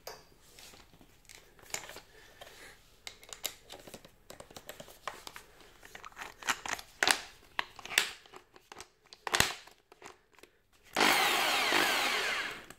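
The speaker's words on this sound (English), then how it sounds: "put this to your power drill" A power drill bores through the plastic container of a touchless automatic soap dispenser, with scattered clicks and handling knocks giving way to a loud, steady whirring burst near the end.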